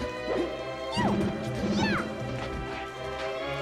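Peach's down smash attacks whiffing in a Super Smash Bros. Melee tournament match, sharp swooshing hits and game effects over crowd noise and commentary, with rapid spinning strike sounds repeated twice.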